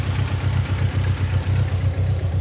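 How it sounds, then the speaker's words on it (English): A Mitsubishi Eclipse GSX Spyder engine idles steadily with a low, pulsing rumble, even and unbroken throughout, close up. "it's idling good."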